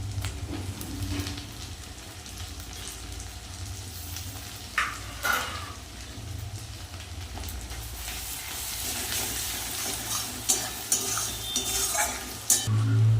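Chopped garlic frying in a pan alongside fried bhetki fish, a steady sizzle with occasional stirring scrapes and utensil clinks, close and moderately loud throughout.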